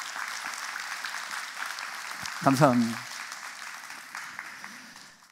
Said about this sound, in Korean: 우리 격려의 박수 한번 할까요?